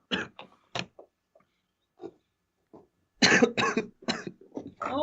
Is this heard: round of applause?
no